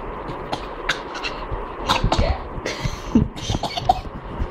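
A small child imitates a cough, producing several short, forced coughs and throaty rasps close by.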